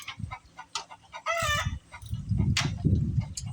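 Hens cluck and squawk the loud, rhythmic cackle of an egg song nearby, with repeated bursts over a few seconds, and no talk.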